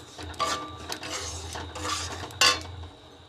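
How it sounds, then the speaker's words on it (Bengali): Semolina lightly frying in a pan for chhanar jilipi, with a few sharp scrapes and clinks of a utensil against the pan over a low steady background, no talk. "সুজিটাকে একটু হালকা করে একটু ভেজে নেব আমি"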